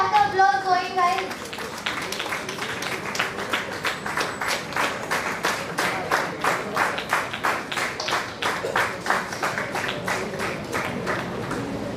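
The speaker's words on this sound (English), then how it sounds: "let's have the applause going, guys." Applause from an audience at a foundation's live-streamed stage event, a steady run of many hands clapping over about twelve seconds, fairly close and even, following brief talk at the start.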